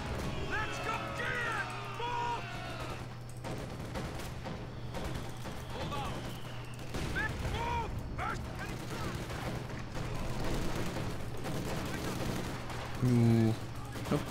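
Mortar fire pounds away in a Company of Heroes 2 multiplayer battle, with repeated dull booms and scattered gunfire under continuous talking and in-game voices.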